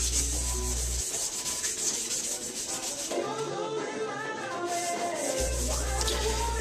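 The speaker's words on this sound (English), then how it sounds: "I'm wet sanding everything out with 320 grit" Steady, rhythmic wet sanding of a car fender with 320-grit sandpaper, a close scratchy back-and-forth that continues throughout with a low hum underneath.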